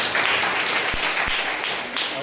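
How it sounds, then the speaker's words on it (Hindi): Loud, sustained applause from a congregation at a Sunday morning church service, dense clapping filling the whole stretch with a few sharper claps standing out. "बहुत दिनों के बाद जोरदार ताली बजा सकते हैं।"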